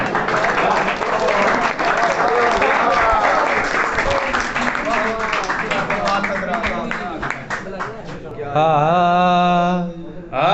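Loud applause fills a college farewell party, with voices calling and talking over the clapping; near the end the clapping drops away as a single voice begins singing.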